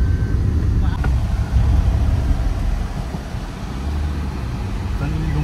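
A Maruti Baleno rumbles along a rough off-road track near Vagator beach in Goa, a low, steady engine and road roar close by, with people talking over it.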